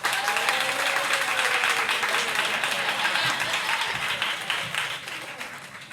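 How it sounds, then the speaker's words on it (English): A debate audience claps for a speaker coming to the stage, with a few seconds of thick, lively applause at close range that thins slightly toward the end. "A very raucous crowd."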